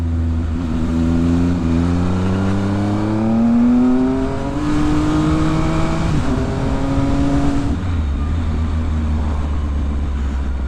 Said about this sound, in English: It's a lovely overrun of the twin arrow end cans.